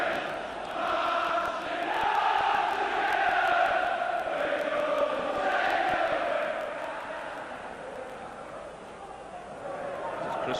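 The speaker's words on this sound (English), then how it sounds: "the crowd getting behind them" A football stadium crowd at a 1992 European Champions League qualifier between Leeds United and Rangers roars steadily in support of Rangers, swelling and dipping across the whole stretch as a broad, sustained wash of voices.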